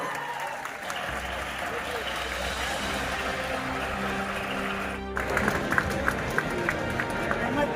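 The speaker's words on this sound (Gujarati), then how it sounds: "વાહ વાહ, જોરદાર તાળી મિત્રો" An audience at a school alumni gathering in Viramgam claps loudly and steadily, a broad wash of applause that swells and carries on with scattered sharper claps and crowd noise.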